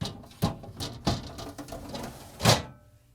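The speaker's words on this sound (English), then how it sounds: "followed by the upper crisper pan." A Frigidaire refrigerator's upper crisper pan slides into place in a series of sharp plastic knocks and clatters, ending in a louder bump as it seats, close by with no voices.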